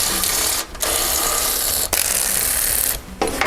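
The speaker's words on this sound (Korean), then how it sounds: "볼트 두 개를 풀어주면 됩니다" A ratchet wrench loosening the roll rod bracket bolts on a car works in a continuous loud clicking whir, broken by two short pauses where the stroke resets, close up with no speech.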